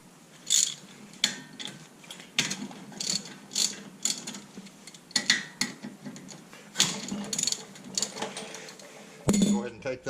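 Ratchet wrench loosening 14mm brake caliper bolts on a Camaro, heard as bursts of rapid metallic clicking with clanks and pauses, close and fairly loud, with a metallic clunk near the end.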